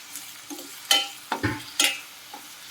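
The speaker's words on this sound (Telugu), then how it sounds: "ఇవన్నీ వేసుకొని బాగా ఫ్రై చేసుకోవాలి." A poppy seed curry fries in a pan, with a few sharp stirring scrapes and short sizzling bursts spaced irregularly, fairly close and quiet with no talk.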